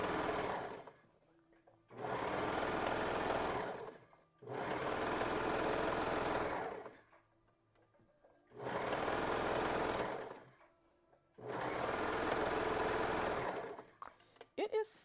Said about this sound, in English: I'm going to cut off a lot of this excess by sewing really closely to the stitch line